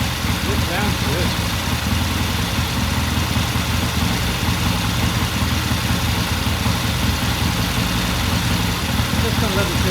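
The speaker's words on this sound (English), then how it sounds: "I'm just going to let it sit here and idle for a while." A Triumph TR6 engine idles steadily after a cold start, a continuous close rumble with even low throb holding level and loud throughout, with no pauses or revving.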